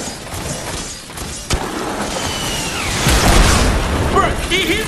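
Rocket launched and exploding in the Fortnite video game, a sharp boom followed by a rising rush and rumbling blast, loud and close with game sounds around it.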